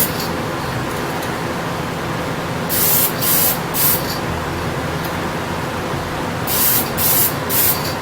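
Aerosol clear coat hisses steadily onto a model car. The broad, even spray runs throughout, with a few short, brighter bursts rising above it.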